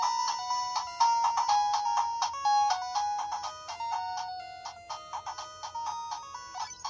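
A Power G3 NES handheld console plays its loud, bright chiptune startup jingle through its small built-in speaker, a bouncy run of beeping square-wave notes heard alone.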